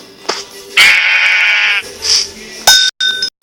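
Sheep bleating in a survival video game, one long loud bleat in the middle and a shorter one after it, with game clinks and clicks around them.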